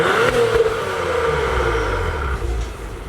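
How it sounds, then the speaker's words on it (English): A 2021 Acura TLX Type S with a 3-liter single-turbocharged engine of about 355 horsepower drones loud and steady under acceleration. Low engine tone and road rumble run throughout, with a rising whine at the start. "this one has a much beefier 3-liter turbocharged, single turbocharged engine, making about 355 horsepower"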